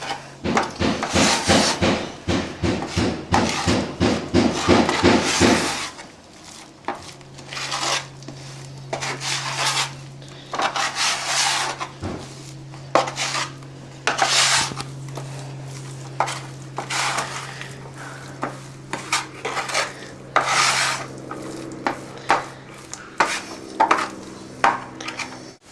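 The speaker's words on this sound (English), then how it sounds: "So then we're going to mix a bit of plaster, mix some plaster." Plaster being mixed in a bucket for patching a hole, with a fast run of close scraping knocks followed by irregular stirring scrapes and clunks against the container, loud and continuous.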